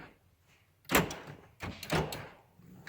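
The power door locks of a 2006 Pontiac Torrent, repaired after a door wire harness fault, actuate in two sharp mechanical clunks, close and loud, about a second apart.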